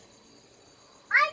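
Cat giving a single short meow near the end, close and clear after a quiet, faintly humming stretch.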